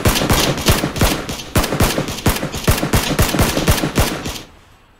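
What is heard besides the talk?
gunfire from the video game PUBG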